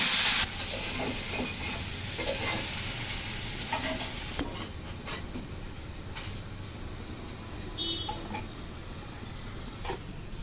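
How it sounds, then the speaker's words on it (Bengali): Bitter gourd and potato pieces fry in a pan while being stirred, the sizzling hiss broken by repeated scraping and clinking spatula strokes close by, with no talk. "ভালো করে মিশিয়ে নিচ্ছি।"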